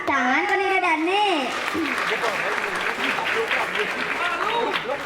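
Audience clapping fills the background throughout while a voice sings or speaks with a wavering, melodic pitch over it.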